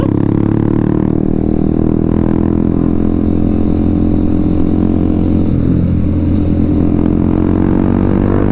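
A motorcycle being ridden on a Sunday group ride home from Madura rumbles loudly and steadily, the engine note wavering as it accelerates and eases, with wind mixed in and no voices.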